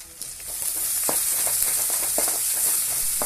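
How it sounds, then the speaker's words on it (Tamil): Spices, onion and curry leaves sizzle and crackle steadily in hot oil for karunai kizhangu (elephant yam) kuzhambu, with scattered pops and the occasional scrape of stirring; no talking. "இதெல்லாம் போட்டு கொஞ்சம் தாளித்த மாதிரி வணக்கணும்"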